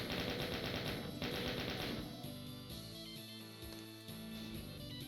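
Rapid automatic gunfire from a shooter in the video game Doom, dense repeated bursts rattling out loud and close, then giving way to steadier tonal game sounds, with no talking.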